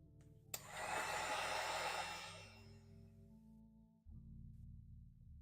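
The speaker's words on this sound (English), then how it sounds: "Hit with the dryer just in case." A hair dryer blows across freshly painted 3D-printed figure paint, switching on with a click into a steady loud rushing whoosh that eases down to a lower hum, then jumps up again near the end.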